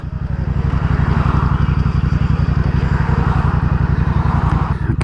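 Small motorbike being ridden, its engine a steady, loud, close putter with a fast regular pulse that holds throughout.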